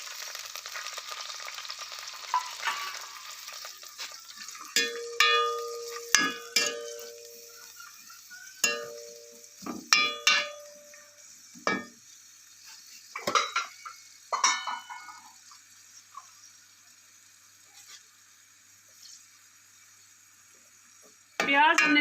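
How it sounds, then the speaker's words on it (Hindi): Onions dropped into hot oil for aloo matar, giving sharp bursts of sizzling with pot and utensil clinks and stirring scrapes that fade toward quieter frying, with a voice speaking. "जैसे ही हमारा ऑयल गर्म होगा तो हम इसमें प्याज शामिल कर देंगे।"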